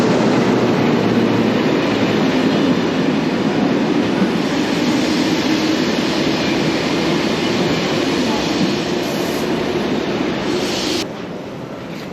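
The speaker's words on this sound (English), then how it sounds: "L'Intercité entre en gare." An Intercités passenger train pulls into a French station, a loud, steady rolling rumble with rail noise filling the whole stretch before easing slightly near the end.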